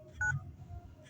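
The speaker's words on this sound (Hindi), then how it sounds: "नंबर डायल कर रहा हूँ ना" Phone keypad tones as a number is dialed from another phone, a couple of short quiet beeps over faint background hum, no talking.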